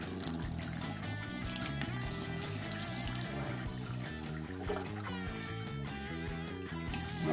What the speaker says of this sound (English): slowly pour this over the grain bed.